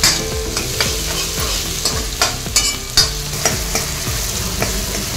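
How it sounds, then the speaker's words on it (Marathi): Onion and tomato fry in hot oil for a matar paneer biryani, a loud close sizzle with rhythmic spatula scrapes and clatters against the pan, no voices. "आणि याला देखील चांगले तेलामध्ये परतून घेते"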